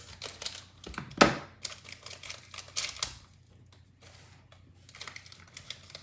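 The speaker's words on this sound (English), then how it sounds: "I'm going to get some scissors out so I don't end up tearing into this and spilling the contents everywhere" Scissors snip open a crinkly butter cookie wrapper up close, giving a quick run of crisp plastic crackles and rustles with one sharper cut near the start and softer handling noises after a pause, with no talking.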